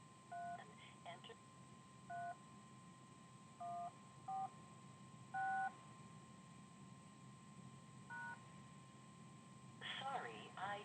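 Touch-tone keypad beeps on a phone line as a zip code is entered for an automated account system, several short separate tones spaced irregularly over faint line hiss, ending in a brief garbled voice.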